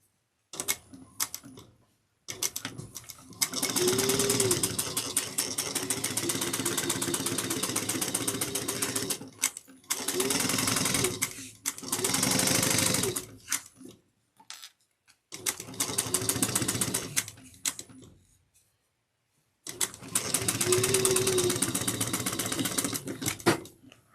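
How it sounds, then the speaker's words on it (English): A home sewing machine stitches a tote bag seam at a 3/8-inch seam allowance, running in several sustained whirring bursts of a few seconds each, separated by short pauses, close and steady. "we're going to sew that with a 3/8 of an inch seam allowance"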